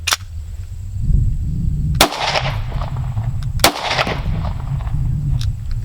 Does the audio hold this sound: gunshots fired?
yes